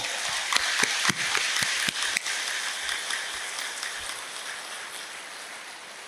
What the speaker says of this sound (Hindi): आपके सम्मान में हम सभी ताली बजा रहे हैं।